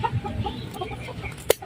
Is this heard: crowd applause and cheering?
no